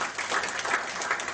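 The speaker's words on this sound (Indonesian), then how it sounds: "Boleh tepuk tangan buat Tuhan Yesus?" Brief, moderately loud patter of congregation clapping during a church sermon, a continuous even spread of many hands with no speech over it.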